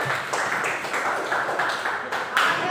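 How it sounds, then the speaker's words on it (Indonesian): Classroom students clap for a presenting group, a dense run of hand claps filling the room at moderate level with faint voices mixed in. "Tepuk tangan buat kelompok 3"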